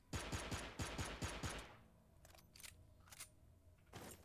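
A blue barter pistol in a shooting video game fires seven rapid, evenly spaced sharp shots up front, followed by quieter mechanical clicks and clacks of handling or reloading.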